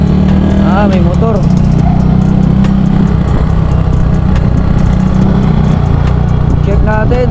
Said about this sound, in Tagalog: May motor.